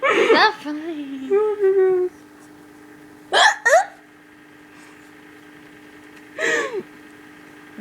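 Someone hiccups repeatedly in close, sharp vocal bursts spaced a few seconds apart, some drawn out into whimpering, moan-like tails, with quiet gaps between.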